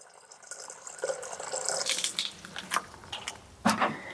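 One litre of AdBlue liquid is poured into a container, a soft close trickle and splash that builds over a few seconds, ending with a brief sharper splash.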